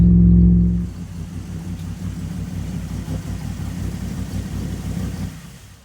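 A Kenny Powers Camaro with a new ATM carburetor settles into a steady, even idle, a low engine rumble that follows a louder rev at the start.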